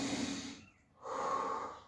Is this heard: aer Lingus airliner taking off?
no